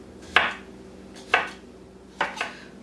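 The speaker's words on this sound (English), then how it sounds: "I'm almost finished cutting up the pickles" A knife slicing pickles for traditional Newfoundland bread and butter pickles in a home kitchen: three crisp, close cuts against a board, about a second apart, with a quiet background and no talk.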